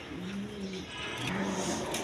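A running pair of black Lahori Siraji pigeons giving two drawn-out, low rolling coos separated by a short pause, close and clear over light background hiss.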